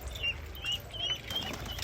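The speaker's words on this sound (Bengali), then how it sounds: "ওরা পায়রাদের জল খেতে দেওয়া হয়েছে," Pigeons bathing in a dish of drinking water flap their wings in a few quick bursts, with faint chirps and splashy fluttering nearby.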